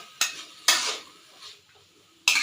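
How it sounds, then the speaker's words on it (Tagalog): Ginger, onion and garlic sautéing in oil in a pan, heard as a few sharp bursts of sizzle and clinking utensil contact separated by quieter frying. "igigisa lang natin yung luya, spicy, sibuyas,"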